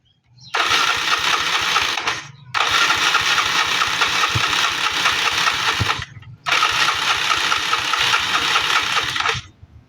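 A Yamaha Mio Sporty scooter engine cranks in three long bursts with brief pauses between, a steady whirring starter with rapid chugging that never catches, close and loud.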